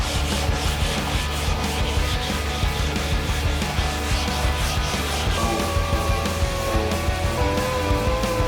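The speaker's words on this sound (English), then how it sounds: "Dec's in his happy place, sanding, blocking, and getting the car into epoxy primer" Close, steady rubbing and rasping strokes as a car body is sanded and block-sanded before epoxy primer, continuous and even throughout.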